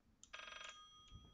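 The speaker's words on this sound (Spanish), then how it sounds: "Maldito... teléfono." Telephone ringing in the horror video game Layers of Fear, a short electronic bell trill with a brief second ring after, faint and alone over a quiet low background.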